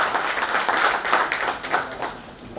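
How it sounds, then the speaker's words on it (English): An audience at an edtech convention applauds, dense and fairly loud clapping that carries on steadily for a few seconds with a slight rise and fall. "huge round of applause for Dr."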